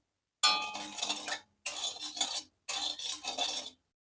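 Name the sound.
stirring Parle-G biscuit mixture with water in a pan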